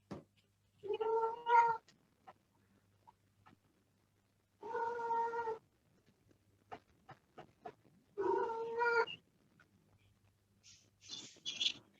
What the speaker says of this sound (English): Whose cat is that one?